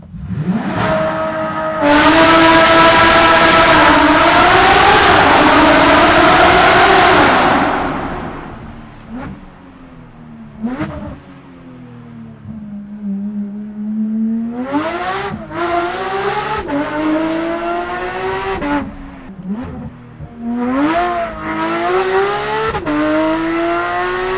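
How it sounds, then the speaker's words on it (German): A straight-piped Porsche 992 GT3 RS engine roars at full launch-control start for several seconds, then drops and revs again in repeated rising and falling bursts through gear changes, loud and close. "Wir machen mal Launch Control"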